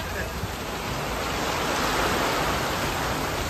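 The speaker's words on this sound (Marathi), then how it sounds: "लय पाणी पडतं" Heavy rain pours down in a steady, dense roar that stays loud and unbroken throughout, with no clear pauses.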